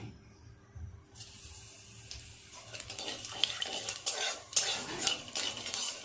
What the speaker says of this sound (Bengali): এই তেলের মধ্যে একটু কালো জিরে ফোড়ন দিয়ে দেব।